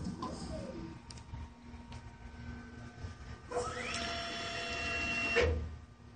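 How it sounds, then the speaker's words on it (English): A Parlec TMM 1850 CNC tool presetter measures an end mill, giving a steady mechanical whine and hum with a rising motor sweep of tonal harmonics partway through, moderately loud and close, with no talking. "The machine will find the tool, will position accordingly, and will measure all the features of all the flutes."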